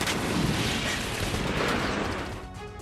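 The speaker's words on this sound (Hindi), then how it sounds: "रूस का मिसाइल लॉन्चर ग्रेडोव से जबरदस्त अटैक" Russian Grad rocket launcher firing in a sustained, dense roar of rapid launches and booms, loud and continuous before easing slightly at the end.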